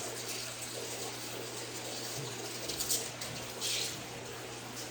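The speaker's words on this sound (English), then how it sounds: "Turn the hose thing off, but it doesn't shut completely." Water keeps running from a hot tub hose that will not shut off completely, a steady loud hiss and splash outdoors. A bird call is faintly audible now and then.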